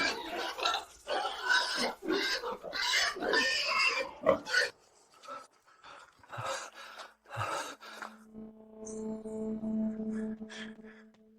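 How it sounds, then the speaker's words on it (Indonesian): A pig grunting and snorting in a backyard, a run of rough, breathy grunts in quick succession, loud and close, followed by quieter snuffles and a steady low tone. "Makanan babi, seekor babi."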